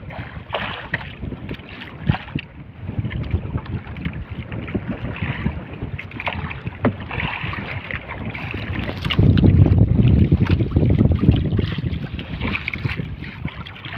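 Strong wind roars and buffets continuously, gusting noticeably harder toward the end, with water sloshing nearby.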